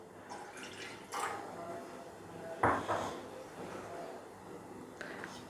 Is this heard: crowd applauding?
no